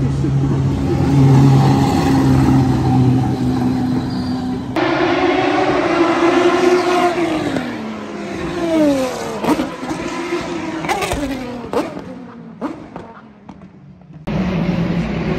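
Historic race cars at the Spa 24 Hours thunder past one after another, loud engines roaring near then fading, with several rising and falling pass-bys and a final burst of noise.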